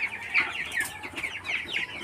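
Sonali local cross chickens on a farm cluck over and over in close, overlapping bursts, with no talk.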